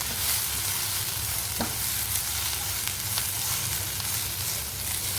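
Onions and tamarind frying in a pan for a Tondli (ivy gourd) masala curry, giving a continuous dense sizzle with occasional faint stirring, close and steady, no voices.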